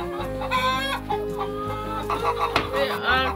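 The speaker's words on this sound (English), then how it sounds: "Moving a chicken and finding eggs underneath." Chickens clucking on a rural care farm at Church Farm in Ardeley, a busy run of overlapping clucks and squawks, fairly close and steady throughout the few seconds, with no one talking.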